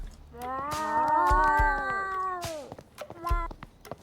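Several cats meow in the Sushi Ben video game, long drawn-out tonal calls repeating loudly and close, one stretched cry then shorter meows, over faint game ambience.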